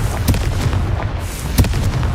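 A Confringo blasting spell explodes in the Hogwarts Legacy video game. Two loud, booming bursts hit over a dense, roaring wash of background game noise, with no talking.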